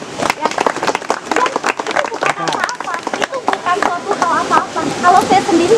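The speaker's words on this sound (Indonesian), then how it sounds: "Tepuk ya." An audience gives a scattered, uneven round of clapping that comes and goes for several seconds, mixed with overlapping voices talking nearby.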